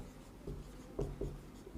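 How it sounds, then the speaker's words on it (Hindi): Marker or chalk scratching across a classroom board during a maths lesson, a short run of quick, close strokes with small taps, steady and fairly quiet, with no voice over it. "दूसरे वाले भाग को लिख देता हूं मैं"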